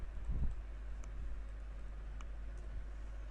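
A computer keyboard gives a few sparse, faint key clicks at irregular intervals against a low steady hum, with no speech.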